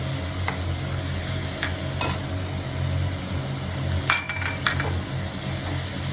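Tomato puree, salt and Kashmiri red chili frying in a pan for a garlic curry, a steady loud sizzle with stirring scrapes and a few light clinks of a utensil, close up with no talk.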